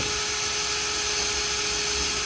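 A power drill bores through a plastic side gate into the horizontal reinforced brace bar inside it, giving a steady, close whining hum that holds evenly from start to finish.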